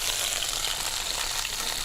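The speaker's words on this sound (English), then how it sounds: "You heat that sizzling in there to create some crispness to that." Octopus sizzling in a hot pan, a dense, steady frying hiss that stays loud and even throughout.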